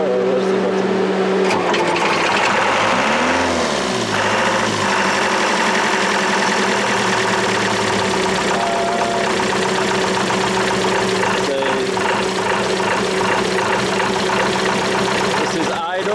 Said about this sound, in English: This is idle, and we go.